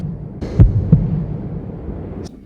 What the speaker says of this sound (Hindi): मेरी धड़कन बढ़ती जा रही है।